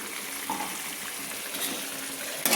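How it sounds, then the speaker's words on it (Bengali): Water poured into a pot of papaya curry, a soft continuous splashing trickle heard close by, low in level and without talk. "আর একটু আমি জল দিয়ে দিলাম"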